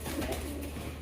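Pigeons cooing at a pigeon seller's stall, a soft low cooing over a constant background hum, brief and fairly faint.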